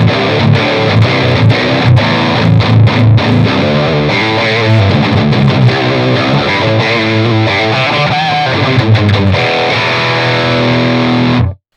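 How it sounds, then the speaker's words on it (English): Heavily distorted metal guitar runs through The Crown amp sim with a booster added and lows, highs and volume cranked, playing a loud, dense riff with choppy palm-muted hits that stops abruptly at the end. "let's just crank up the lows, highs, and the volume and see what just adding the booster does to the tones"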